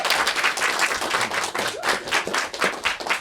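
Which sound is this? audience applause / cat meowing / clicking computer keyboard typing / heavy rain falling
audience applause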